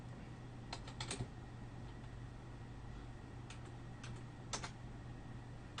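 Keys tapped on a computer keyboard in a few short bursts of quick clicks, separated by pauses, over a constant low hum, close and quiet.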